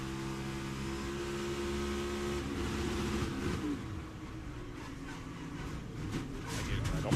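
A NASCAR Cup race car engine at the 2024 Great American Getaway 400 runs loud and steady with layered harmonics, shifting partway through, then buzzes at a held high rev as if bouncing off the rev limiter, with crowd and track noise around it.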